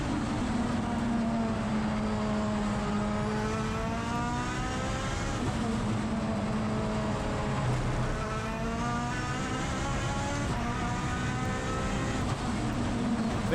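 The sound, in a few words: Mitsubishi 4G63 engine in Tilted Evo race car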